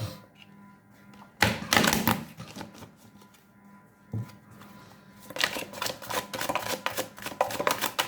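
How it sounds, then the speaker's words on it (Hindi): Tarot cards being shuffled during a full moon reading, heard as two bursts of quick papery flicking and riffling, the first brief and the second longer and denser, close and fairly clear with no talking. "I'll do this kind of shuffle."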